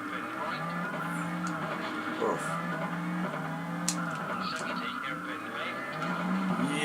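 A rally car in WRC II Extreme drives with a steady engine drone and occasional tyre skids, under a brief exclamation and game sounds.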